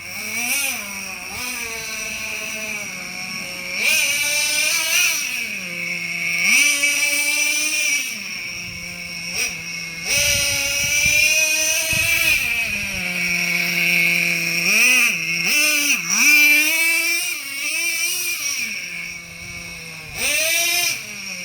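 A Traxxas Revo 3.3 nitro RC truck being driven, its small high-pitched two-stroke engine whining and rising and falling in pitch with repeated bursts of throttle, fairly close and steady over the whole stretch, with no talking.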